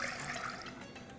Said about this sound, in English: pour in the 4 cups of milk